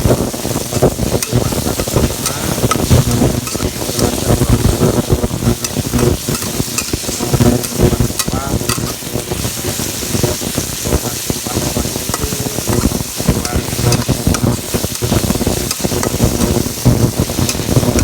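Spicy beef stir-fried with plenty of added chilies in a pan, a loud, constant sizzle with repeated scraping and stirring clatter throughout, close and busy.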